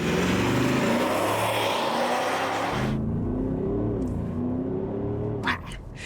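An Audi SQ8's diesel engine revs loudly through its exhaust, the droning note climbing and settling in repeated sweeps, steady and close, with no voices over it.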